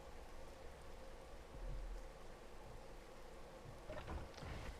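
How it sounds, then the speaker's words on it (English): Steady rain in the video game Space Engineers, a continuous broadband wash of falling drops with faint low rumbles, quiet and even throughout with no voices. "obviously it's raining or fog out right now"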